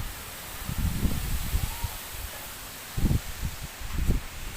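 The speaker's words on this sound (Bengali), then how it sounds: "জোর হাওয়া।" Strong wind sweeps through the leaves of trees in a green village on an afternoon with light drizzle. The rustling comes in several loud gusty surges with quieter stretches between them, and no one speaks.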